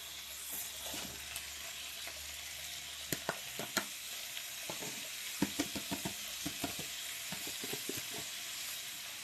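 Peppers and curry sizzle steadily in a hot pan, a constant frying hiss punctuated by scattered clicks and scrapes of a utensil stirring, no talking.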